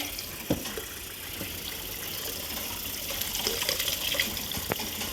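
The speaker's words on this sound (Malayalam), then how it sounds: "നമ്മൾ ബീഫ് വെള്ളത്തിലോട്ടിട്ട് മിക്സ് ആക്കുവാണ് കൈ കൊണ്ട്" Raw beef being mixed by hand in a container of water, with continuous splashing and sloshing water close by, including a few sharper splashes, and no talking.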